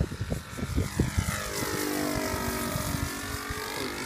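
A Hangar 9 P-47 radio-controlled model airplane with a Saito FG-40 engine makes a low pass with flaps up, its propeller buzz sweeping smoothly downward in pitch as it passes, after a few sharp knocks at the start.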